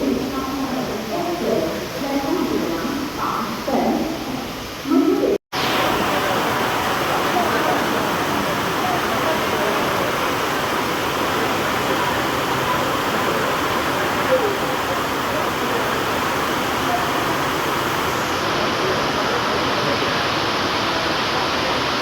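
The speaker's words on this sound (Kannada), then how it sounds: "ಮನ್ಮಾಡ್ ರೈಲ್ವೆ ಸ್ಟೇಷನ್ ಫುಲ್ಲು ಒಟ್ಟೆ ಜೋರು ಬರ್ಸವತ್ತನ" Heavy rain pours at Manmad railway station as a dense, steady roar of broadband hiss, loud and unbroken after a short opening of someone talking.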